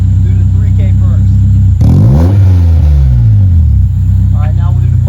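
A Honda S2000 fitted with an Invidia N1 catback exhaust idles with a low rumble, then revs up once to about 3000 rpm and falls back to idle. The engine sits close and loud, with no talk over it.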